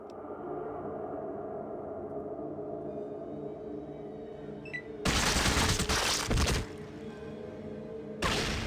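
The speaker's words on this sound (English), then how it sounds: "Why are you shooting me? Why are you shooting me?" Fallout 2 gunfire bursts out abruptly after a quiet low hum, a loud rapid volley lasting over a second, followed by a brief later shot.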